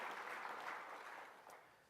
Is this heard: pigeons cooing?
no